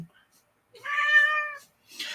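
A pet cat meows once, a drawn-out, close, fairly clear cry in a quiet room, with a brief voice stirring just after.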